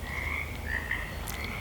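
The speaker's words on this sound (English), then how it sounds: "Can you hear all the frogs? All of the frogs have been coming out in force." Many frogs croak outdoors in a steady, dense chorus of overlapping calls, with no voices.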